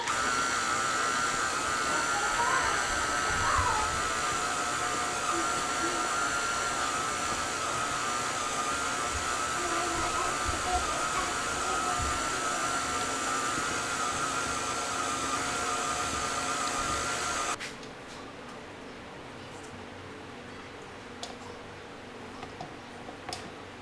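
A stand mixer with its paddle at high speed beating shortbread dough, giving a steady, loud motor whirr with faint rhythmic ticking for about seventeen seconds before it abruptly stops, leaving quiet room noise.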